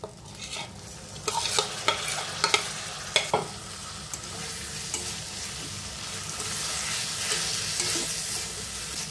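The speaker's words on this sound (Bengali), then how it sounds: "কিশমিশ আর চাল দিয়ে 5 মিনিটের মতন ভেজে নেব।" Rice and raisins fry in a pan with turmeric and cumin, giving a steady sizzle broken early on by several sharp scraping stirs of a spoon.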